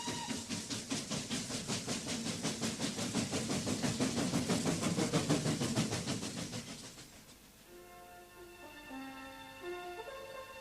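A steam train pulling out of a station chuffs in a steady, even rhythm that swells and then fades, giving way to soft sustained tonal notes.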